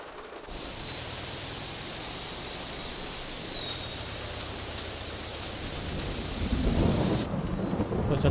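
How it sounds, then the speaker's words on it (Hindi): Video game heavy rain pours steadily with a constant hiss, joined by deep rolling thunder rumbles that swell louder near the end, in Farming Simulator 22. "बारिश जो स्टार्ट हो चुकी है बहुत तगड़ी वाली"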